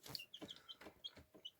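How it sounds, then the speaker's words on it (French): A small red hen clucking close up, a quick series of four or five short, soft clucks in a steady rhythm, alone and fairly quiet. "une petite poule rousse, ça c'est sûr, c'est une poule."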